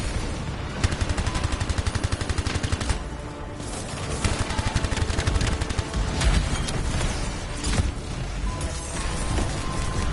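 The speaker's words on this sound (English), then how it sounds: "SMGs in Division 2 are literally my best friend" Rapid SMG gunfire from the video game Division 2, dense bursts of automatic shots with mechanical clatter, loud and near, firing in long runs with a brief pause mid-stretch.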